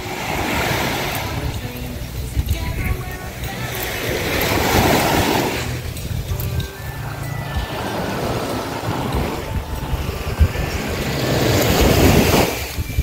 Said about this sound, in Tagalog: yun po yung dagat.